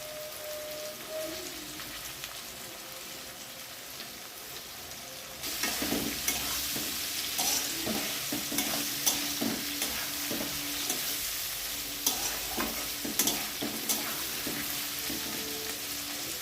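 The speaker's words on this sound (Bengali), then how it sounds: "এরপর আমি কেটে রাখা পেঁয়াজ কুচি এবং লঙ্কা কুচি দিয়ে হালকা করে আবার নাড়াচাড়া করে নেব।" Chopped onion and chilli stir-fried with soaked soya chunks in a pan for homemade eggless chowmein: quiet at first, then a steady loud sizzle with repeated scraping of the spatula, no voices.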